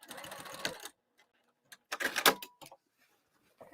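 A sewing machine makes short back-tack bursts on a lining, two quick close runs of rapid stitching separated by silence, with a few small clicks between.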